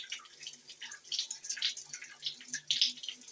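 Water running and splashing from a newly installed rain shower head in a bathroom being remodeled, with cold water falling. The flow is a steady, soft hiss with irregular splashes and drips and no talking.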